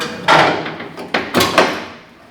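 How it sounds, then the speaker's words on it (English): A door on a 1923 Willys body mounted to a 1930 Model A frame swings shut, giving a few sharp near thuds and latch clunks in quick succession, then a short fading ring. "shut the door."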